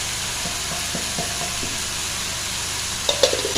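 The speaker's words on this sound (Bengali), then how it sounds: "এবার ভালো করে কষিয়ে নেব" Ground chilli, turmeric, coriander, cumin and salt sautéing in a pan for a prawn and banana-flower dish: soft sizzling with a few scraping stir strokes, then sharper clinks and scrapes near the end.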